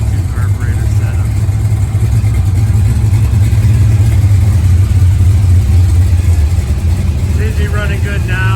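A supercharged 454 car engine with an old carburetor runs at a loud, steady, rumbling idle close by, with a brief voice near the end.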